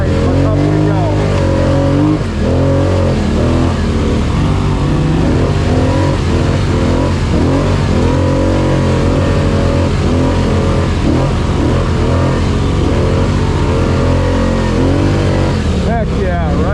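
Loud, close engines of Scrambler 1000 ATVs revving and straining up a steep trail hill in West Virginia, with fluctuating throttle surges, while a rider talks over the roar.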